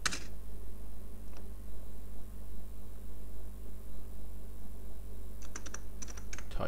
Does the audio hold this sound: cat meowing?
no